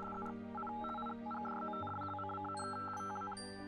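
A telephone's dialing tones sound in a Robocar Poli cartoon episode about prank calls, a run of steady electronic beeps and tones in close succession with a shift partway through, no talking.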